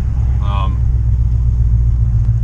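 A truck cruises along a two-lane highway with a loud, steady low engine and road rumble, and a voice speaks briefly over it.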